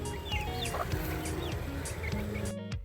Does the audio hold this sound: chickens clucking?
yes